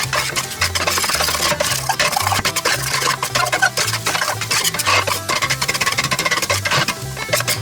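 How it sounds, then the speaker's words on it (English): Sausage tossed and reheated in a frying pan alongside eggs on the stove, giving a steady close stirring and scraping sizzle with rhythmic clatter throughout, no talking. "right before the eggs are done, I'm going to toss the sausage"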